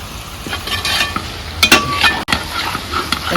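Coconut pieces fry for a pork roast, a steady crackling sizzle with stirring scrapes and a few louder bursts of spoon-on-pan clatter, close and alone.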